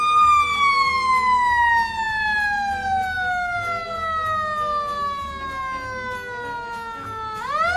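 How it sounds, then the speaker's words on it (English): A brand-new blue Wellston Fire Department engine sounds its siren in a parade, one long descending wail that falls steadily over several seconds before a sharp rising whoop restarts it at the end, loud and close. "this is the brand new Wellston Fire Department engine"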